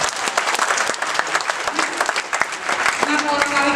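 A church congregation claps in a loud burst of applause during a sermon, sharp overlapping hand claps filling the hall while a voice speaks over it.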